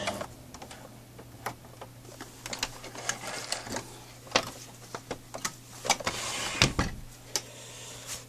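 Sewing machine stitching a seam with thread tension set high, back-stitching: a faint, steady mechanical whir with a run of quick clicks and taps throughout, no voices.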